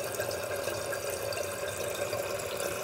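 Steady rushing hiss of water as a TOTO toilet fill valve refills the tank, a constant close flow with no pauses, moderately loud.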